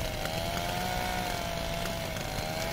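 A chainsaw in the video game Little Inferno gives a continuous buzzing, whining drone that holds steady and close, alone without talk.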